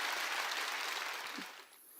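A congregation claps during a church sermon, a brief burst of applause that tapers off quickly into near quiet.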